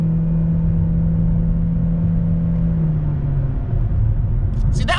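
A 2017 Chevy Malibu Hybrid accelerates at full throttle from about 35 mph, producing a steady low rumble and smooth engine whir inside the cabin, fairly quiet and constant.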